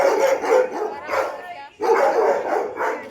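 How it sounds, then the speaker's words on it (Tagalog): Dogs bark loudly and repeatedly nearby in agitated bursts, with people talking over the noise. "Galit ang aso. Tingnan mo."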